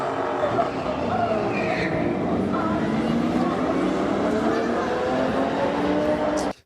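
A car engine roars continuously during a race between a Tesla and a truck, with tire squeal and voices talking over the sustained engine noise until it cuts off.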